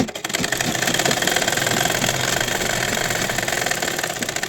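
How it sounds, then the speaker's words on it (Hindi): A sewing machine stitching a kurti sleeve, a steady fast mechanical whir with rapid needle knocking running continuously, close and fairly loud, with no voices. "देखिए इस तरीके से रख के हम सिलाई मारेंगे"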